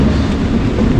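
London Underground tube train rumbles loudly and steadily nearby, a dense continuous roar of wheels and motor with no pauses.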